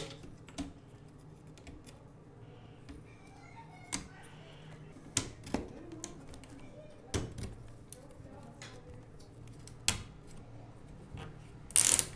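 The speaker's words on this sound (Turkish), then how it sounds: "şimdi fanımızı geri takalım sistemimizin üstüne" A CPU cooler fan is fitted back onto a processor in a used DDR4 budget PC build, giving scattered sharp clicks and ratcheting snaps of clips and screws, close and moderately loud, with quiet pauses between.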